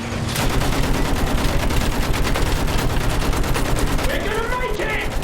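Heavy battlefield gunfire crackles continuously, a dense, loud barrage of rapid overlapping shots with faint shouting near the end.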